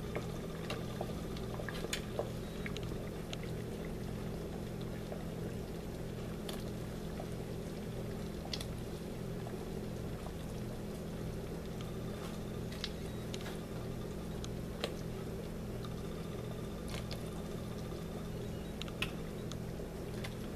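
Broth at a steady rolling boil with chicken dumplings cooking in a pot, a constant bubbling wash broken by occasional small pops and clinks, close and even throughout with no talking.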